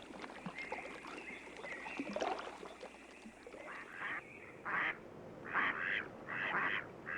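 Mallard duck on a marsh pond giving a series of loud, harsh quacks, spaced in short bursts and growing more frequent toward the end, heard fairly close over quiet water ambience.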